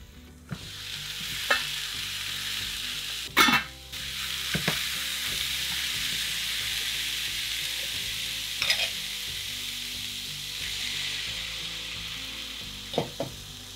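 A simple veggie stir fry sizzles steadily in a pan, a continuous hiss of frying with occasional louder spits and the clatter of stirring now and then, no voices.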